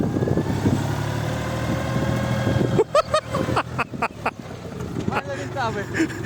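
A Chinese DF-244 tractor pulling a Bomet 2-25 plough across a field drones steadily with a low engine rumble, then voices talk loudly over the running engine.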